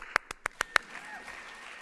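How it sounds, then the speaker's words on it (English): At a talk about menopause, an audience gives five sharp, evenly spaced hand claps in a hall, followed by a faint, fading ripple of clapping. "Clap for that."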